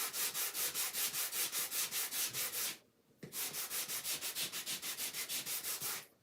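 Wood is sanded by hand in quick, even back-and-forth strokes, a dry rhythmic scratching that pauses for a moment midway and then carries on, close and alone.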